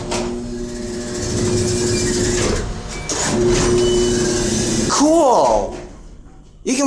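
Door of a vintage CJ Anderson traction elevator closing, a mechanical whirring hum that rises and shifts, then a sliding sweep and thud near the end, close and fairly loud.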